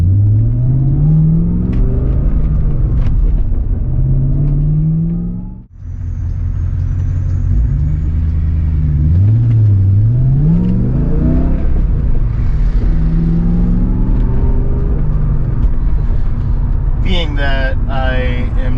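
A restored BMW car engine on its first drive, running on mineral oil and not pushed hard, gives a steady loud rumble with rising and falling engine tones as it accelerates gently, and a brief dip midway.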